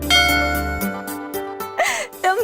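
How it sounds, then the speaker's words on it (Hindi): An old-style telephone bell in a Hindi comedy scene rings in repeated clanging bursts, fairly loud, with a voice speaking over the later part. "देखा दूरभाष वहाँ बज रहा है"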